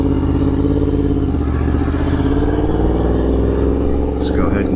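A 1000cc motorcycle engine runs nearby with a loud, steady, throbbing idle that holds constant throughout.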